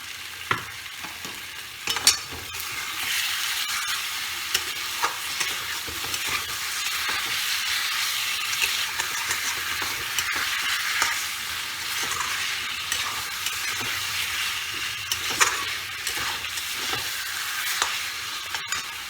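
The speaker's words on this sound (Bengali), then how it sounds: "এই যেটুকু মশলার জায়গাটাতে একটু জল দিয়ে দিয়ে এটাকে কষবো" Chicken pieces fry in spices with a splash of water, a continuous bright sizzle with scattered sharp pops and scraping stirs, close and alone.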